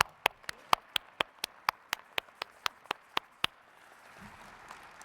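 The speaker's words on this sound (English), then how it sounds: "Give yourselves a round of applause." Sparse applause from graduates at a university School of Social Work commencement ceremony: a dozen or so sharp, evenly spaced claps ring out alone in a quiet hall, then stop, leaving faint room noise.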